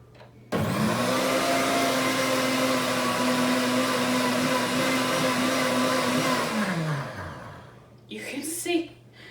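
A Pampered Chef Deluxe Cooking Blender grinds sugar into powdered sugar, its motor whining at a loud, steady pitch for several seconds before winding down, followed by a brief rattle.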